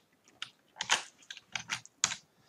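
Keys on a computer keyboard are struck in a few quick, close clusters of clicky taps separated by short pauses, as a short Python print command is typed.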